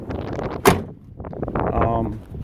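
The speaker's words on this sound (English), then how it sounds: "The doors shut really tight." Door of a 1969 El Camino shutting with a single sharp, solid thunk, close by, surrounded by someone talking before and after.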